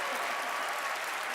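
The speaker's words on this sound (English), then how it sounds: "Another round of applause for Gianni" A studio audience at a magic show applauds in a continuous, even wash of clapping that stays steady and fairly loud throughout.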